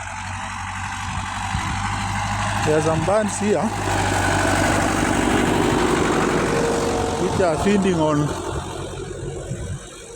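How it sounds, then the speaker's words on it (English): A tractor engine ploughing a field drones steadily and loud close by, rising and falling in pitch, while someone talks over it. "There is a tractor here working here."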